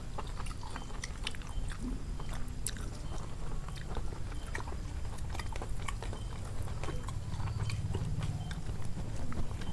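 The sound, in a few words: eating chicken curry with tomato, chewing meat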